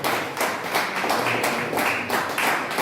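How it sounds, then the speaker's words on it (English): An audience at an evening lecture event claps to welcome a guest to the high table, a dense, steady round of applause held for a few seconds. "With a heavy clap offering, let us welcome Mr. Setrako Gagakuma to join us on the high"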